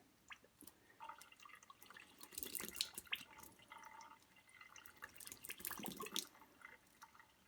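Water trickles slowly from a reverse osmosis faucet just after new filters go in, a thin, faint, uneven dribble with drips and small splashes into a sink, no voices.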